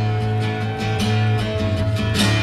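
A soft flute line plays over sustained low accompaniment as a film score leads into a title sequence, with several brighter accented notes rising above a steady tonal bed.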